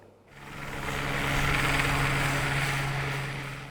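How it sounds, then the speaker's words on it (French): A water-bombing firefighting helicopter's engine and rotor drone swell in from quiet to a steady, loud roar, with a low hum throughout. "comment fonctionnent ces hélicoptères bombardiers d'eau?"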